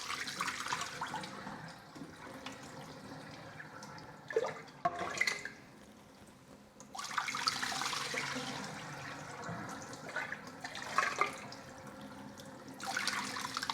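Liquid whey from cheese curds for Nabulsi cheese drains from a fabric-lined colander into a sink, a soft running and splashing of water with brief louder pours and drips, heard alone without talking.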